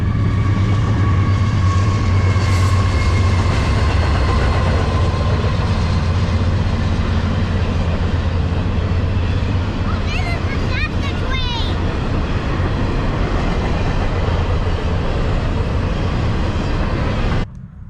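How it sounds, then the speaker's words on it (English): A loud train rumbles past nearby for the whole stretch, a steady heavy roar with screeching wheel squeals in the middle before it cuts off. "we got a train going by"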